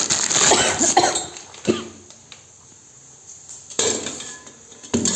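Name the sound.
grating jaggery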